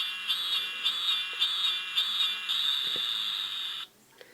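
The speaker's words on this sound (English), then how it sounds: "So the first one is a cicada." A Transpod Beet & Stag toy from the Buster Gear series plays a cicada sound effect: a loud, steady electronic buzzing drone with a rapid pulsing rhythm, running continuously for several seconds before cutting off abruptly.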